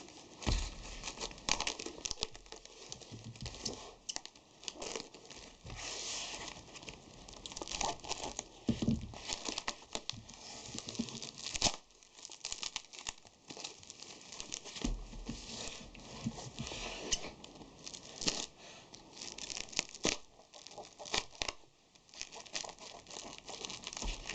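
Packaging being unwrapped from a metal lathe cutting tool: continuous close crinkling, rustling and tearing of wrapping material, with irregular crackles and patters, no speech.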